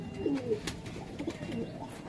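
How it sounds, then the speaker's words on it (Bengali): Breeding pigeons kept at a home loft coo softly in several low, throaty bursts, faint but close, with little else around. "দেখো এই কটা আমার ব্রিডার পায়রা"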